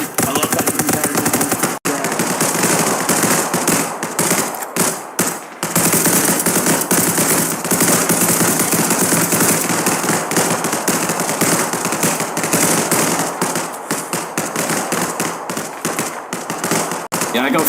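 Rapid automatic gunfire from the video game The Ascent, loud and sustained with dense bursts, briefly cutting out near the start, with voices talking underneath.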